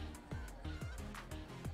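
Chickens in the video game Minecraft Story Mode give repeated short clucking calls in a steady rhythm, several in under two seconds, over a low game background.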